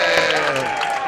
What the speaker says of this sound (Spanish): ¡Aplausos para la Cogo!